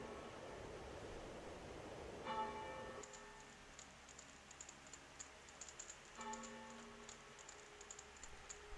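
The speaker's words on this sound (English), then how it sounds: "Whenever I hear those bells" Chiming bells from the game Zelda: Hero's Purpose, two bright struck tones with lingering harmonic decay a few seconds apart, followed by a light twinkling shimmer over a soft, steady background.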